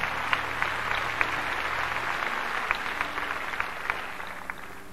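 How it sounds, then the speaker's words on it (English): A church congregation gives rousing applause for an ordination committee at a jurisdictional holy convocation, continuous crowd clapping with sharper individual claps popping out over a low sustained hum. "Let's give this ordination committee a rousing applause."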